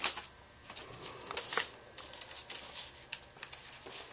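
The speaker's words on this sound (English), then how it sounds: "Then you want to cut that out." Scissors cut out a paper doll: a string of close, crisp snips and papery rustles in uneven rhythm, fairly quiet, with no talk.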